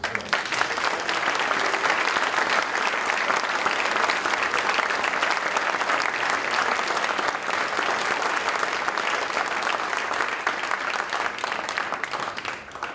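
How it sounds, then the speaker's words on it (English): Sustained applause from a large audience at a community awards ceremony honoring local citizens, dense and steady for the full stretch, loud and even before trailing off slightly at the end, with no voices over it. "I think we need one more really big round of applause for our honorees this year"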